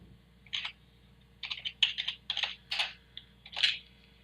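A computer mouse clicks repeatedly while someone works in Holter cardiology analysis software. The clicks are sharp and close, falling in short single and paired bursts over a steady low hum.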